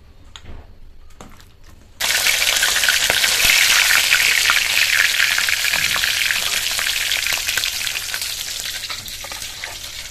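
Cut potatoes seasoned with salt and turmeric hit hot oil in a pan: after a few faint clicks the sizzling bursts in loudly, then keeps up a steady crackling fry that eases slightly over the following seconds.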